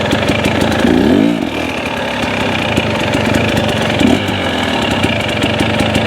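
KTM motorcycle engine idling while the rider holds the bike stopped and balanced, a loud steady close-up drone with a brief rise in pitch near the start and another small swell later.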